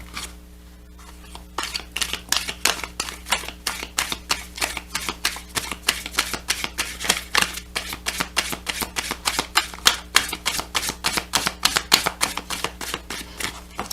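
Empowerment cards being shuffled by hand, a long run of rapid, evenly spaced crisp card snaps that continues steadily for about twelve seconds, close and fairly quiet, with no talking.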